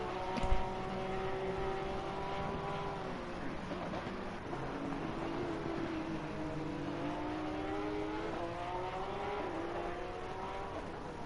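Race cars in an SOP Motorsport race in Spain roar past on track, steady engine drone with rising and falling pitch as cars close in and pull away, loud and continuous throughout.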